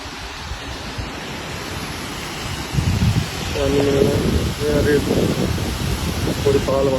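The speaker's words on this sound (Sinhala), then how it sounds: "මෙච්චර උස දිය ඇල්ලක් තියෙනවද කියලා දැන් තමයි පේන්නේ" Tall waterfall near Ellanda village in Badulla, its water rushing down in a steady broadband roar throughout, with someone talking over it from about three seconds on.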